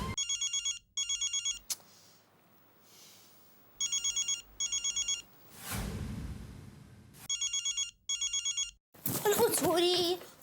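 Telephone bell rings in repeated short bursts of two, pausing between pairs, with a voice and a gust of noise in the gaps and a louder burst of talk near the end.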